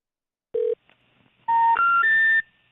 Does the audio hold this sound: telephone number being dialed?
yes